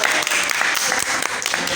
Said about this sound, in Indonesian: Oke, tepuk tangan dulu semuanya.